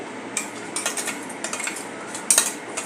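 A spoon scrapes and clinks against a mixer jar while scooping green mint chutney into a bowl, a series of sharp metallic taps and scrapes at close range.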